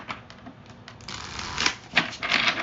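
Tarot cards are shuffled in quick, papery riffles, soft crackly bursts building to a few louder flurries, close by with no talking.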